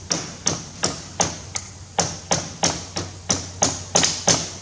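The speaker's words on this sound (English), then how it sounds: "You can probably hear a bit of a rattle outside, and that's the doors." Sharp knocking thuds repeat about every half second, a steady series of a dozen or so as doors rattle against their frames in the wind, close and fairly loud.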